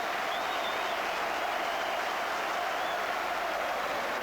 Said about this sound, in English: The applause is partly for the departure of John Aldridge, but mostly for the arrival of Ian Rush